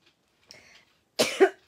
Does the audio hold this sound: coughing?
yes